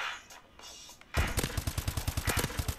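Gunfire in Call of Duty: Advanced Warfare multiplayer: after a quiet second, a loud, close burst of rapid automatic shots in an even rhythm, roughly fifteen or more cracks.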